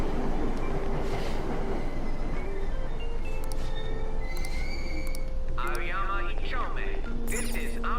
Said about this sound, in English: Let's get in the train, bro.